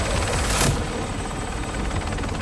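Helicopter in Warzone 3, a continuous loud rotor and engine drone with rapid chopping pulses and a brief burst of noise near the start, no talk.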